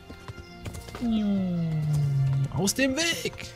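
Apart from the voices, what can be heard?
horse hooves galloping in video game Kingdom Come Deliverance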